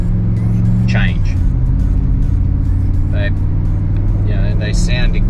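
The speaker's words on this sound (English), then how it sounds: "They sound exactly the same. So well done to the cheap, crappy eBay jobby. Similar sort of engine note." Nissan Y62 Patrol with a cheap eBay cat-back exhaust, a steady low engine drone on a road drive, with someone talking over it.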